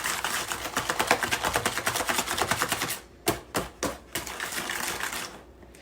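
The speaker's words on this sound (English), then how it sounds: "Take a whisk and whisk it up pretty good." A whisk beats a brown sugar mixture for mini derby pies in quick, even, clicking strokes, then slows to a few separate taps. The sound is close and there is no talk.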